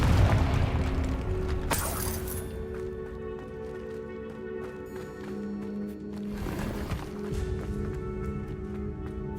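Hogwarts Legacy's Confringo spell bursts with a loud broadband boom near the two-second mark, followed by a second muffled blast later, over steady game music and rumbling ambience.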